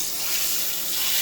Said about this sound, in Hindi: तड़का तैयार हो चुका है, अब हम इसको लगाने लगे।